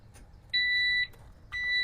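A motorcycle's anti-theft alarm sounds two loud, steady warning beeps, each about half a second long with a short gap between them, close by and with no voices over them.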